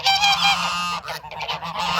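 Several geese honk loudly and close, a harsh nasal chorus that continues in overlapping bursts throughout.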